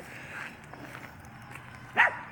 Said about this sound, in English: What you barking at, Poop? What you barking at?